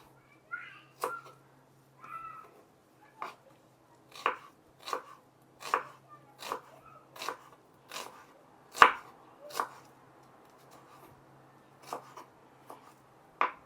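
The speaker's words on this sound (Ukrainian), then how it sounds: "довільно нарізаємо цибульку" A knife chops an onion on a cutting board in a steady series of sharp, close thuds, about a dozen strokes with short pauses, no voices.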